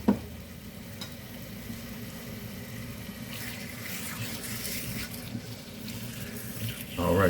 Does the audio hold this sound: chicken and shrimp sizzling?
yes